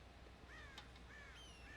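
Crows cawing in the Red Dead Redemption video game: several harsh caws, one then a pair, rising over a steady low rumble of ambient noise, with no talking.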